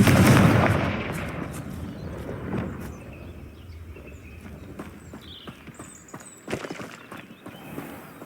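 Confringo fire blast spell in the Hogwarts Legacy video game, heard as a loud, booming burst at the start that decays into rumbling, followed by scattered impacts and thuds from combat.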